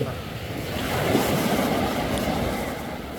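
Sea waves wash in with a broad, rushing swell that builds and holds, mixed with wind buffeting the microphone.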